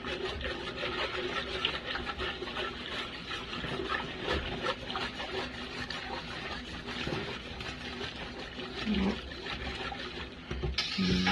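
A spoon scrapes along the bottom of a pot of cream of broccoli soup on the heat, giving steady, close rubbing and rasping strokes with no speech.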